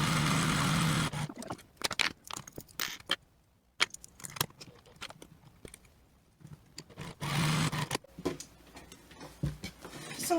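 A sewing machine stitches a fabric bag strap in two short bursts of rapid, steady whirring, separated by quieter clicks and handling noises up close.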